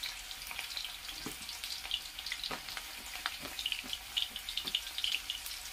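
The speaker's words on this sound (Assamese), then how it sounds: "এতিয়া মই কেৰাহীত পিঁয়াজ দি দিছোঁ।" Onions frying in oil in a wok for veg chowmein, a soft steady sizzle with scattered crackles and occasional stirring clicks, quiet and close, no talking.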